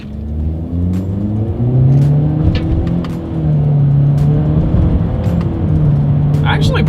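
A 2020 Honda Accord with a CVT accelerates, its engine drone rising and settling in pitch with the paddle-shift changes, heard from inside the cabin as a steady close rumble.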